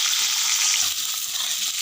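Tuna fish frying in hot oil with a spoon of ghee, a loud, close, continuous hiss and crackle of sizzling that fills the whole moment with no voices.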